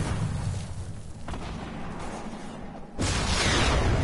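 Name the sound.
guided missile explosion in Fortnite video game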